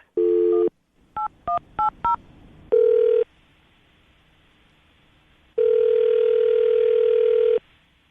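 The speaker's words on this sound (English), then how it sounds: "I'm going to dial the phone number right now" A telephone number being dialed for a morning radio call: a short tone, then four quick touch-tone beeps in a row, followed by two longer steady dial or ringing tones, loud and clear with no talk.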